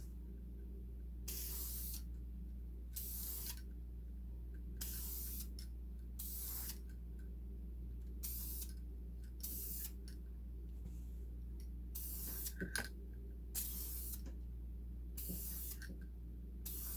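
Blue spray paint is applied as a first coat to ATV nerf bars for a Raptor 700, in evenly spaced hissing bursts of about a second each with short gaps, close by over a constant low hum.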